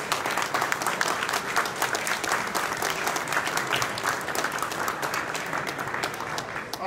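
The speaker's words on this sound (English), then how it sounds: "Let's give them a round of applause" Symposium audience applauding students, a steady, moderately loud wash of many hands clapping that holds evenly throughout with no voices on top.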